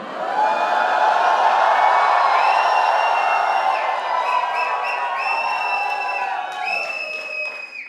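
Audience at a Kun Faya Kun storytelling event shouting, whooping and cheering loudly as a dense crowd roar, with high sustained yells rising over it before the noise gradually tapers off.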